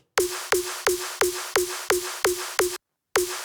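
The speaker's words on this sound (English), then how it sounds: "the snare sounds something like this without processing" A dry, plain snare drum hit repeats in a steady pattern, eight quick strikes, a short gap, then one more, each with a short tonal ring.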